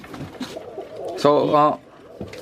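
A roller pigeon gives a short, throaty coo up close, a single rolling call between spoken voices.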